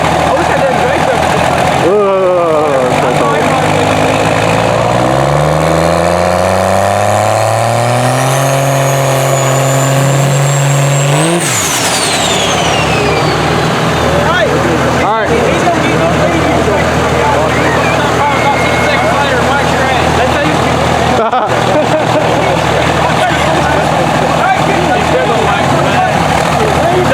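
Diesel pickup trucks racing on a street in Mexico, loud engines revving and climbing in pitch, then roaring past and fading into steady rumbling traffic noise.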